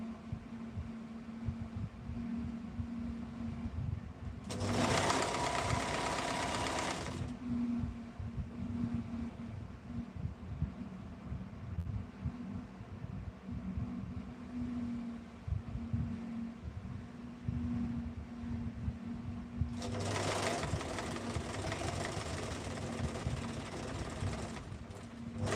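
A sewing machine stitches lace onto a top in two separate bursts of steady whirring and rapid clatter, each lasting a few seconds, with a quiet low room hum between them.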